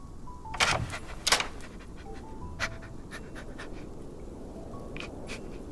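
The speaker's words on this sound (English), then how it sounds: "This is Casey. He's the dog that lives on the campsite." A dog named Casey, living at a campsite in the game Love and Deepspace, pants in a few short bursts of quick breaths, fairly close, with faint chimes and quiet background tones around.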